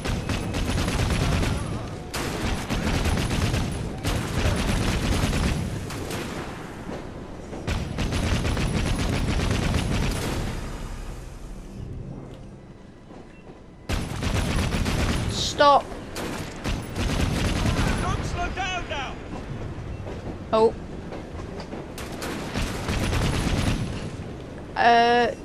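Bursts of heavy gunfire in Assassin's Creed Syndicate, loud sustained volleys broken by pauses, with a player talking over and between the shots.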